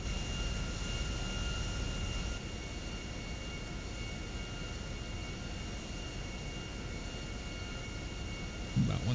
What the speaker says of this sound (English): So you're in a plane to Jackson Hole, Wyoming.